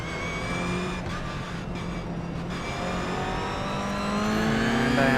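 Race car engine in a racing video game holding steady revs as the start lights near green, a dense, continuous drone with rising harmonics that swell louder toward the end.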